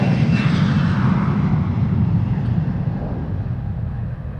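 A jet airliner departing Amsterdam Schiphol Airport on a sunny day, a loud low engine roar with broadband rushing that slowly fades as the aircraft moves away.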